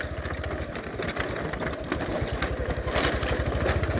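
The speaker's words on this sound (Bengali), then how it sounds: "আমি বাইক নিয়ে যাইতেছি" A motorcycle engine thrums steadily and close by as the bike is ridden across a river bridge, with a rapid pulsing beat throughout and no pause.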